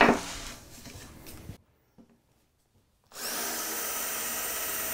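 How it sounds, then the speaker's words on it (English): A power drill bores countersinks into the underside of pegboard in two close, loud whirring runs with a short quiet gap between them, the second a steady high whine. "2 countersinks are drilled from the underside."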